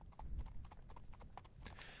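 Horse hooves clip-clop in a steady, fairly close rhythm in a cowboy roleplay setting, several hoof strikes sounding clearly with no one talking over them.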